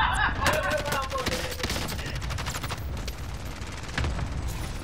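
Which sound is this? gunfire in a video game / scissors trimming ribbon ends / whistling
gunfire in a video game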